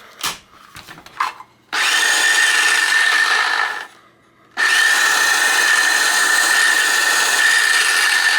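A repaired DeWalt cordless trim saw runs freely with a steady high whine, close and loud, in two bursts of a few seconds each separated by a brief stop, after some handling clicks at the start.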